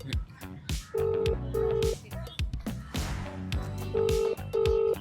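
Telephone keypad dialing tones on a phone call, short repeated beeps in pairs at a steady rhythm, heard close and clear among speech and other sounds.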